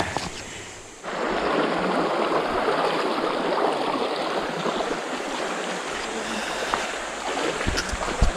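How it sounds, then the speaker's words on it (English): Rushing water from river rapids in a jungle river pours as a loud, continuous broadband roar that switches on abruptly after a quieter opening second and then holds steady, with a few faint knocks toward the end. "It looks like a bunch of rapids up there."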